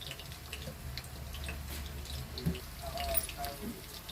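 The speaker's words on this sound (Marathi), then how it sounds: "झाकणावरती पाणी ठेवते इथे मी अर्धा ग्लास पाणी ठेवते" Water splashes and trickles onto a metal pot lid during biryani cooking, a soft continuous pouring with a few light clinks, moderately quiet and alone.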